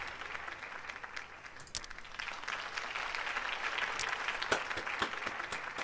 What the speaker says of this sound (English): Claps for Chris.